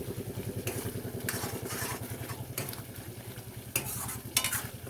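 Masala frying in oil for an egg and peanut kosha curry, with potatoes and eggs fried beforehand, sizzles steadily up close while a spatula scrapes and stirs in repeated rhythmic strokes, a few sharper clatters near the end, no talking.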